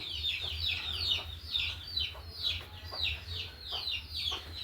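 Native country hens for sale at Pallikkal Bazar in Malappuram, a broody breed that hatches its own chicks, cluck steadily. Repeated bright peeping calls run through the clip over a low hum, with faint talk in the background.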